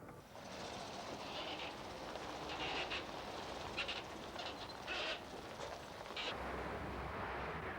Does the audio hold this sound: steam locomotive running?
yes